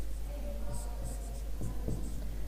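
Pen or chalk scratching across a board during a maths lesson, a few soft strokes and taps over a steady low hum, fairly quiet with no talk.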